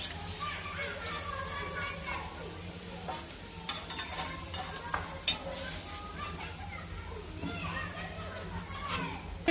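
Onion bhaji fritters frying in hot oil, a steady crackling sizzle that runs the whole time with scattered sharper pops and clinks, while someone keeps talking over it.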